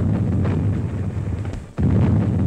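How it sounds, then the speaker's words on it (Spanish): Artillery firing in a 1938 Spanish Civil War newsreel, a dense, loud, continuous rumble of booms with a brief dip before the roar resumes, and no talk. "La artillería, con sus certeros disparos, protege el avance de nuestras máquinas de guerra."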